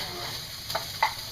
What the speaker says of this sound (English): My other half of my garlic, I am actually going to put in with the onions and saute that.